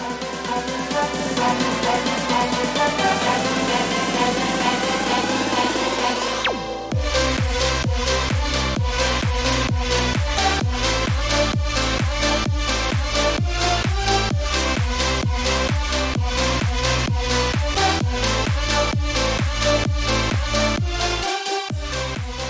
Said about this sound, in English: As you can hear, a progressive house type of trap.